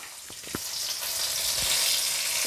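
Red and green chillies, curry leaves and idli powder sizzle in a hot pan, a bright, steady crackling hiss with a few soft taps near the start; close and unbroken, no voices.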